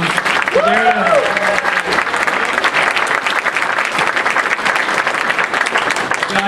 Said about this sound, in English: I want to hear a huge round of applause for Steve Wacker and the team